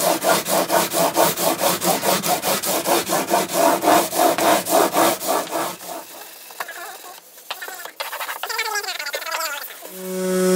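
Rhythmic rasping strokes of sanding across the top of acoustic guitar frets, loud and steady for about six seconds before stopping, followed by quieter scattered handling sounds.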